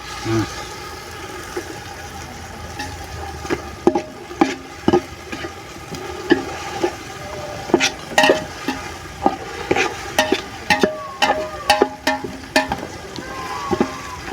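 Tomatoes with ginger-garlic paste and rock salt frying in a pan for a village-style chicken kulambu, giving a continuous sizzle under repeated sharp clinks and scrapes of stirring. A voice speaks intermittently.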